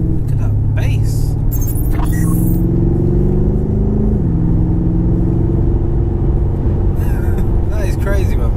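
A BMW F90 M5 pulls under part throttle with a loud, continuous engine drone whose pitch climbs steadily, drops at a gearshift midway, then rises again, while occupants talk over it.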